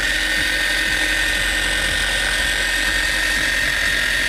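Mothers Wax Attack polisher buffing car paint to remove compound scratches, a steady continuous motor whine with a low rhythmic hum running unbroken and fairly loud throughout.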